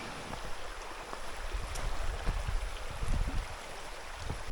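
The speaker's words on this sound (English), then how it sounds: "I can hear the ocean now" Ocean waves near a river mouth at a cove, a broad steady wash of surf and wind noise with low rumbling swells, moderately distant and continuous, no voices.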